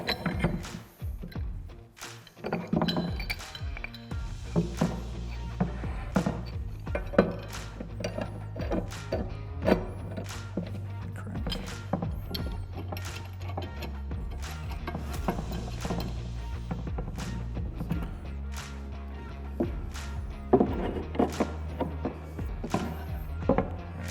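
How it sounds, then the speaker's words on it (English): Steel pipe wrenches working a pipe into a threaded coupler while assembling a spray boom: a long run of clicking, ratcheting metal turns with sharp ticks and low rumbling, fairly steady and close, with no talk. "we're going to utilize both of our pipe wrenches to thread it as far as we can into the coupler"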